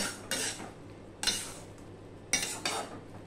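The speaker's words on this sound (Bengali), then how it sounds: "এবার আমি এই কড়াইটা খালি করে নেব" A utensil scrapes and clatters against a kadai as boiled taro leaves are emptied out, in three short, fairly quiet metallic scraping bursts separated by brief pauses, with no talking.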